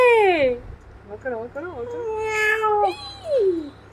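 A cat meowing at a window, with several drawn-out, rising and falling meows in close succession, near and fairly loud, mixed with an excited voice talking over them.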